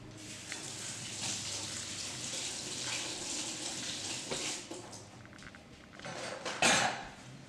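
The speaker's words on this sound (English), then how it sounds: "Let me like rinse my hand." A kitchen tap runs steadily while someone rinses dough off a hand, a soft continuous hiss of water with a brief louder splash near the end.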